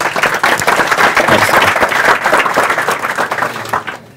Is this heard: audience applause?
yes